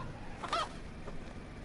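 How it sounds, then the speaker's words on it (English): A chicken clucks briefly and faintly in the DayZ video game as a vehicle approaches a town, one short squawk followed by quieter murmurs over low background rumble. "Oh, did I just run over the chicken?"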